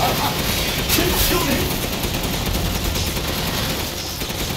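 Dense gunfire and cannon blasts from the video game Resident Evil Village, during the fight against Heisenberg, crackle loudly and continuously in a chaotic, rapid barrage while someone talks over them.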